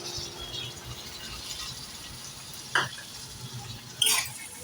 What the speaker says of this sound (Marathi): आता हे छान परतवूया